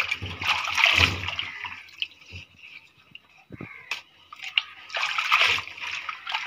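Leafy greens from a home field being rinsed by hand in water, with bursts of sloshing and splashing near the start and end and quieter trickles and drips between, no talk.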